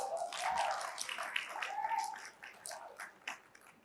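A round of applause from a plenary audience at a youth leaders' conference, moderately faint clapping that swells early and then thins out and fades toward the end.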